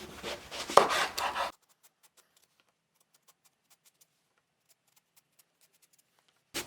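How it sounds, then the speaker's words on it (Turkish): A knife thinly slices washed eggplants for stuffed eggplant rolls, making a close, rasping cutting burst for about a second and a half, then near silence broken by faint scattered ticks. "Patlıcanlarımı hepsini bu şekilde ince ince keseceğim."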